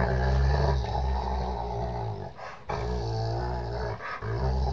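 A deep, rumbling dog growl that swells into rough, roaring barks, loud and close, with two brief dips before it surges again.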